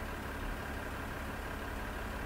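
A small tractor engine idles steadily in the farming game Landwirtschafts-Simulator 15, a constant low, even hum with no talk over it.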